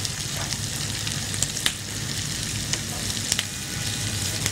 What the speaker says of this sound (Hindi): अच्छा सा आपने इसको करना है फ्राई